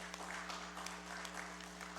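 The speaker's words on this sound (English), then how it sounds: "let's give him a round of applause" Steady applause from a crowd, a dense even patter of many hands clapping throughout with no voices standing out.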